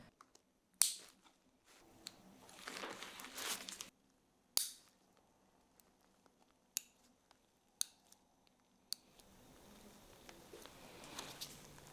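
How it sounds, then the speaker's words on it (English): Nail clippers cut toenails on heavily worn, damaged feet, giving a few sharp isolated snips and clicks spaced seconds apart, with softer rustling and scraping between them in a quiet room. "I start off by cutting the toenails."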